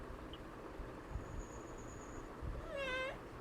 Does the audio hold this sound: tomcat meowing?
yes